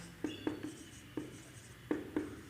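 Pen or chalk writing during a calculus lesson on differentiating inverse trigonometric functions, heard as a handful of short, distinct scratchy strokes at an irregular rhythm, fairly close and quiet, with no talk over them.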